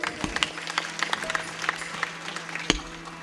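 An audience at a bhajan event claps in a short, moderately loud round of applause. Scattered hand claps blend into a light crowd patter.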